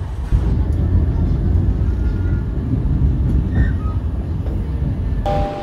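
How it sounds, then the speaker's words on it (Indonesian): Gajah Wong executive train rolling into Cirebon Prujakan station, a steady low rumble of wheels and carriages filling the whole stretch with a faint high tone above and a brief chime near the end. "Sesaat lagi kereta api Gajah Wong akan tiba dan berhenti di stasiun Cirebon Perujakan."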